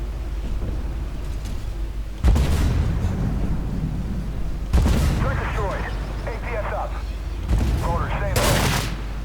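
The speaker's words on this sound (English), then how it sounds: "So somebody fired an ATGM" Armored Warfare tank battle with a Merkava in the fight and an ATGM fired, heard as loud broadband blasts and gunfire bursts recurring every couple of seconds over a constant low engine rumble, with a voice talking in places.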